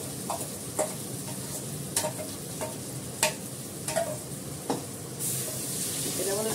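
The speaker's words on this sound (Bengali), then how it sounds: "এটা অনেকক্ষণ ধরে কষাতে হবে।" Spices sautéing in a pan, a continuous close sizzle punctuated by irregular clicks and scrapes of a spoon stirring, ending in a louder hiss.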